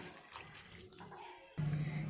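Water left over from cooking peas is poured into a simmering chickpea curry, giving a soft trickling splash that swells into a louder burbling gush at the end.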